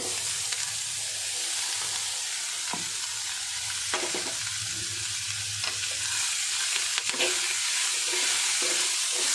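Boiled cabbage stirred in a hot pan for cabbage poriyal: steady close sizzling hiss with repeated spatula scrapes and taps throughout.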